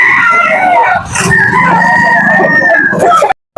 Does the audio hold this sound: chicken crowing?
yes